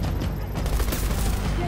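Rapid automatic gunfire crackles in the first-person shooter Battlefield 2042, a loud, dense burst of shots with booming low end, continuous through the short moment.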